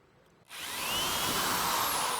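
A power drill boring a 7/64 hole through a plate starts abruptly and whines steadily and loudly up close, with no talk.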